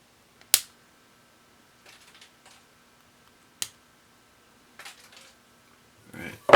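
Wire cutters snipping the legs off electronic components on a Vactrol DIY build: a few sharp, isolated clicks spaced seconds apart in a quiet room, followed by a soft rustle at the end.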